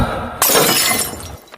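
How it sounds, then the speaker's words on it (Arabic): A glass bottle shatters indoors with a sudden sharp crash, followed by a bright spray of breaking glass that fades over about a second. "معلش يا جماعه والله الكوبايه اتكسرت، الازازه اتكسرت"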